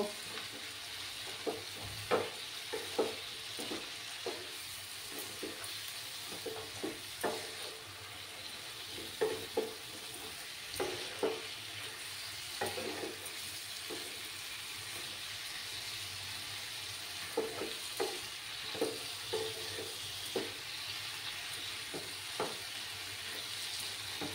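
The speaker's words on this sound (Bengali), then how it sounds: "আরো কিছুক্ষণ আমি এইভাবে কষিয়ে নেব।" Mutton masala with potatoes being stir-fried in a pan, a soft continuous sizzle punctuated by repeated rhythmic scrapes and clanks of the spatula throughout.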